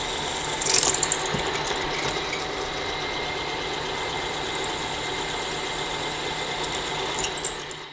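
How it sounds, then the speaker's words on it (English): A drill bores 1/4 inch holes through roller kit parts, a steady, close mechanical whir with a constant hum running unbroken for several seconds before winding down at the end. "we're going to drill this 1/4 inch holes through the rest of these"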